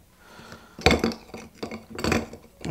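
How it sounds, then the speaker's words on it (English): A large ice cube goes into a cocktail glass for a Negroni, giving two or three distinct clinking knocks of ice against glass close up, with quiet gaps between them and no talking. "Now I'm using a large ice cube here."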